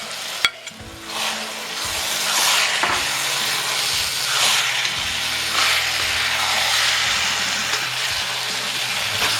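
Cleaned squid goes into a hot pan for a Kerala-style roast and sizzles steadily, with a constant frying hiss and occasional scrapes and clanks of stirring, close and fairly loud, with no talking.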